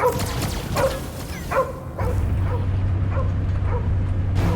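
Cosmo, a dog in the Guardians of the Galaxy video game, gives a series of short, close barks and yips in an irregular rhythm over a low rumbling backdrop that grows steadier partway through.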